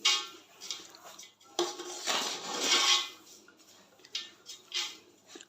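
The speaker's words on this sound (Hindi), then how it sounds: "अभी हम इन सब चीज़ों को अच्छे से मिक्स कर लेंगे" Raisins and crushed almonds are stirred together in a bowl, making irregular clinks and scrapes of a utensil against the dish, with quiet gaps between bursts of mixing.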